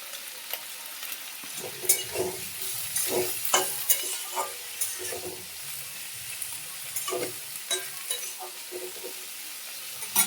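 Pea pods and potatoes fry with salt and turmeric in a pan, a soft continuous sizzle punctuated by repeated stirring scrapes and light clatter of a spatula against the metal.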